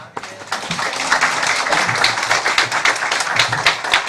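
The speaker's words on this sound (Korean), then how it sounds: "우리 나오실 때 큰 박수로 환영하겠습니다" Church congregation at a Korean thanksgiving Sunday service applauding to welcome a guest preacher, dense sustained clapping from many hands filling the room, steady and fairly loud, with some voices mixed in.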